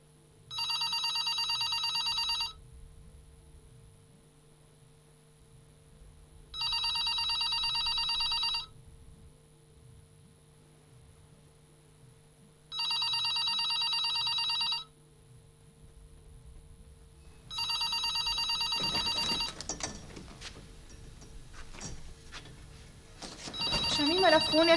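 A phone rings in four evenly spaced electronic bursts, each about two seconds long, over a quiet hum; talking and rustling begin after the last ring.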